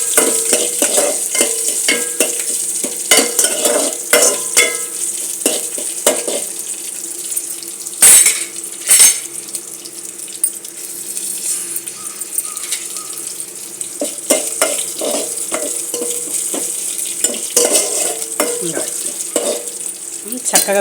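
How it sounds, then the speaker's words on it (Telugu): Green chillies and curry leaves frying in hot tempering oil for a mango dal dish. They give close, loud, crackling sizzles with repeated sharp spits and pops, plus a few clatters from stirring over the steady frying hiss. "పోపులో వేగితేయండి పచ్చిమిరపకాయలు, కరివేపాకును"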